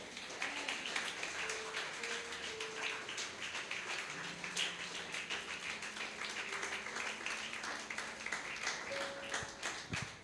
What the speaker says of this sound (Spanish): ¿Cuánto aplauden a Jesús?